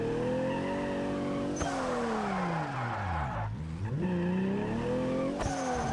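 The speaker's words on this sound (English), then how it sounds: "here on the mountain roads in the drift car." A drift car slides along a mountain road in BeamNG, its engine revving up and down in long sweeping pitch bends with tire squeal, loud and close with a brief dip mid-slide.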